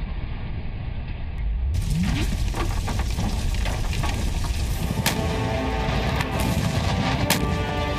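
A loud, sustained roar of a PETN explosive detonation and rumbling debris with sharp cracks scattered throughout, dense and continuous from start to finish.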